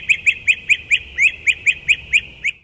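Bird call played from a mobile phone app, a run of about eleven sharp, evenly spaced electronic chirps or quacks, loud and clear against a quiet background.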